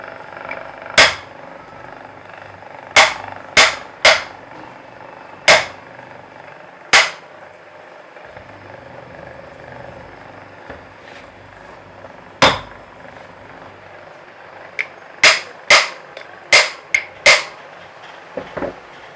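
Sharp, hard knocks strike an air cooler motor housing to free it, some single and some in quick clusters, loud and close over a faint background hum, with no talking.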